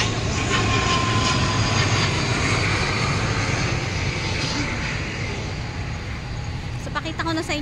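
Airplane engine roar passing overhead in Taipei, a loud continuous drone that slowly fades over several seconds, outdoors near a rose garden.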